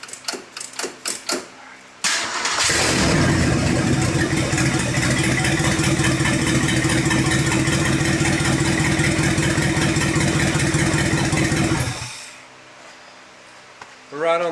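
Abandoned 1968 Ford LTD hardtop V8 cranks briefly, catches and runs loudly for about ten seconds with a rough, steady idle, then dies away as it runs out of fuel; a few short sounds before and after.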